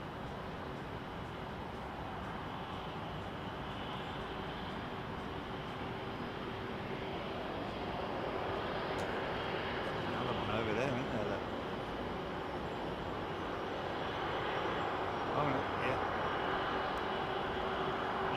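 A Virgin Atlantic Boeing 777-200 jet airliner with Rolls-Royce Trent 700 engines roars steadily nearby, a broad continuous rumble and hiss that swells gradually, with a voice talking over it.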